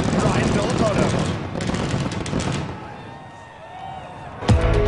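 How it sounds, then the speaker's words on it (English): Fireworks burst over a stadium at the 2011 Monster Energy Cup supercross event, a dense crackling barrage of rapid pops that thins out midway, with crowd noise underneath and a sharp bang near the end. "The fireworks are going off"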